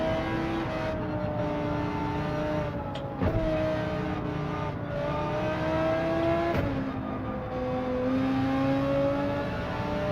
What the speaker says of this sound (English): that McLaren is ripping quick around it, around this section